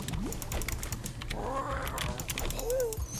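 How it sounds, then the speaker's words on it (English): Creepy stalker cat from the Castle Crashers video game, heard as a couple of short meow-like cries over a busy layer of game music and effects, fairly loud and close throughout. "We got a stalker cat in the hood."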